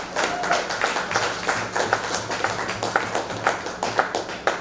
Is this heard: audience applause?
yes